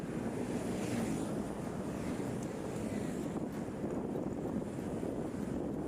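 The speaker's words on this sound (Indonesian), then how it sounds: "suara deburan ombak akan semakin menambah suasana terasa" Steady ocean surf rolling onto the shore at Marina Beach, Semarang, a continuous wash of waves with wind rushing across the microphone, no voices.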